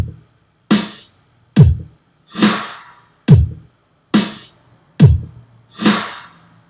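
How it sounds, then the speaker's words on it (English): A bare drum beat alternates kick and snare at a steady, unhurried pace, about eight hits with nothing else playing. "right now we have our kick and our snare"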